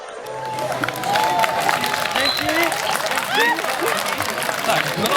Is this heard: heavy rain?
no